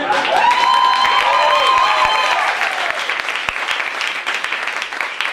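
A theatre audience bursts into loud, sustained applause with some cheering at a music hall performance, the clapping staying dense before gradually thinning.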